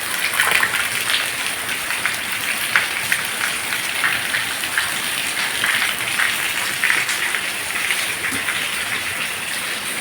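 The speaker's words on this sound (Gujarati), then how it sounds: "જોતા હવે વરસે છે" Heavy rain pouring down in a village, a constant broad wash of splashing drops holding a steady level for the full length, with no voices.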